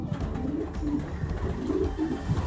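Racing pigeons coo steadily and close by in a loft, soft repeated throaty calls overlapping through the whole stretch without any voices.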